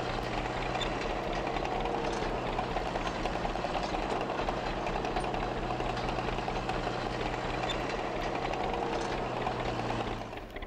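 A tractor engine running in a Farming Simulator 2015 mod, a steady low rumbling idle with a constant drone, close and continuous with no talking, ending slightly softer.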